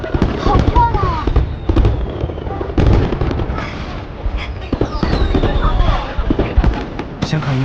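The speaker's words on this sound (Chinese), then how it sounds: "先看烟花吧" Fireworks burst in the night sky over a city during a festive scene in a Chinese martial-arts drama. Repeated crackling pops and booms, some near and some distant, sound amid voices talking.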